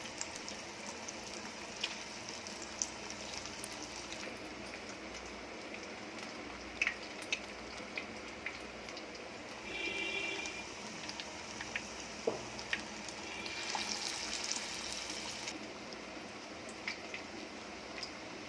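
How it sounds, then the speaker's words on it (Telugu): Chicken keema balls (chicken vada) deep-fry in oil with a quiet, continuous bubbling crackle and scattered pops, steady for the whole stretch and with no voices. "ఆయిల్లో డీప్ ఫ్రై చేసుకోవాలి"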